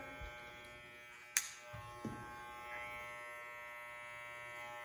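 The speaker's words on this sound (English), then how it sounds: "can you see how I'm rocking the clippers away from the head?" Electric hair clippers cutting hair, a faint steady buzzing hum running throughout with a few brief clicks and scrapes as the blades move against the head.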